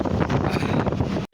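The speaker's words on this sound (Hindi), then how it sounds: "बहुत तेज हवा चल रही है" Strong, cold wind buffeting the microphone outdoors, a loud continuous roar with gusty surges that cuts off abruptly at the end, no voices.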